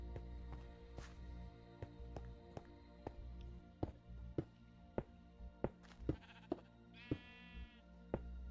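Sheep bleats from the video game Minecraft, a few short bleating calls scattered among regular soft game taps and thunks, with no talking over them.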